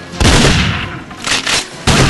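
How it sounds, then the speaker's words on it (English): Pump-action shotgun fire in the first-person shooter game 007 Nightfire, with loud broadband blasts near the start and again near the end, separated by a noisier burst of combat sound in between. "Pump action shotgun."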